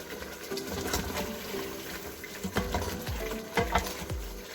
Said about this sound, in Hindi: इनको पहले मैं भून लूँगी।